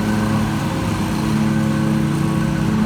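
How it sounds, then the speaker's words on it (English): A lawnmower runs nearby in a garden. A loud, steady engine drone holds without a break and with no talk over it. "every time I start to talk, this guy comes by with this lawnmower."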